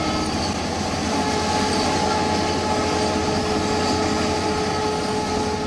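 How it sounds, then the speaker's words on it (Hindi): Two trains roll past on a railway track beside homes, a loud, continuous rumble and clatter of wheels and wagons that holds steady throughout with no speech. "आपको ये 2 ट्रेनें जाती हुई नजर आ रही हैं"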